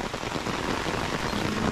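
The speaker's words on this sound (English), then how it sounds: "We're getting a good rain" Steady rain falling outdoors on a farm property with a straw area, a dense continuous patter and hiss that stays even and fairly loud throughout, with no talk over it.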